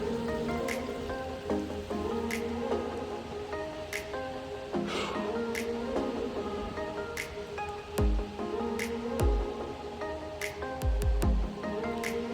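Water at Dunn's River Falls in Jamaica trickles and drips steadily nearby, with splashy droplets and soft gurgles over a low wash of flowing water, fairly quiet and without talk.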